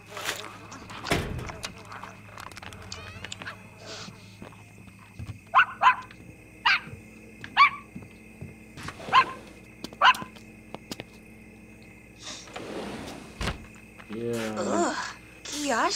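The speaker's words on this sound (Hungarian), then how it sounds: "Nagy kutya." Big dog barking in The Sims 2, a burst of several sharp game barks in quick rhythm mid-clip amid background game music and sound effects, with a human voice also heard in the stretch.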